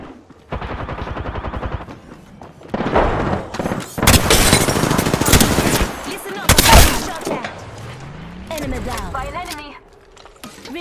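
Machine gun fire in the Apex Legends shooter game, loud rapid bursts of automatic shots in several stretches, with sharp heavy blasts between them and a short voice among the fire.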